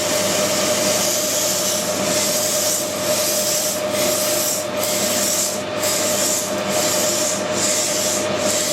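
Polishing a welded metal tube produces a steady, close abrasive rubbing with a soft rhythmic pulsing of strokes that grows more distinct toward the end. No voices.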